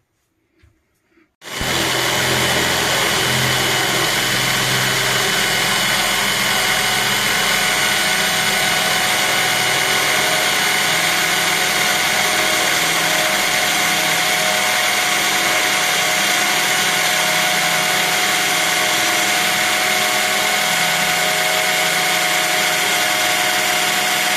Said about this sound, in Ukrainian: беремо шуруповерт та сверло Форснера на 20 мм діаметр